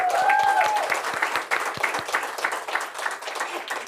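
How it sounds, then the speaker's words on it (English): Audience applause at a hometown reunion event, a steady wash of many hands clapping close and loud, with a brief tonal whistle-like sound near the start and faint crowd noise underneath. "Let's give our executive managers a round of applause."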